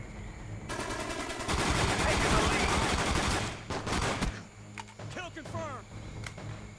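Rapid automatic fire from an FN FAL assault rifle in Call of Duty: Black Ops on the Wii, a loud sustained burst lasting several seconds, followed by a few scattered mechanical clicks and short rattles.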